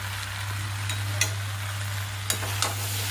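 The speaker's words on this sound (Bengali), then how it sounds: "এই যে ভাজা আলুটা দিয়ে দিলাম।" Salt-fried potatoes are stirred into spiced green jackfruit in a pan under a low, steady sizzle, with a few sharp scrapes and taps of the spoon against the pan.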